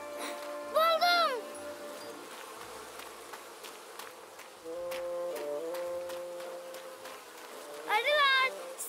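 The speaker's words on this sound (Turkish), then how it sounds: "Hah, arılar." Cartoon bees buzz with a continuous insect-like drone, rising and falling in gliding tones, in a Turkish animated children's show, while bursts of sing-song character voices and sound effects play over it.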